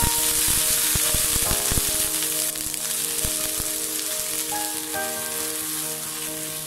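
Dosa batter poured onto a hot stone griddle for thattu dosa, giving a steady, dense sizzle with a few sharp crackles and clicks up close. Faint musical tones run beneath it, and no one speaks.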